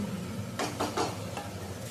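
Food seasoned with salt, turmeric and chili powder sizzles quietly in a pan while a utensil scrapes through it in a few quick strokes.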